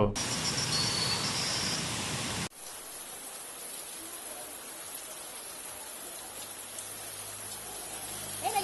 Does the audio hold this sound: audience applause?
no